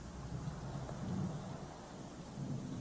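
Rain falling outside at night with thunder, a steady dense hiss of rainfall under a low rumble that swells midway, with no talking.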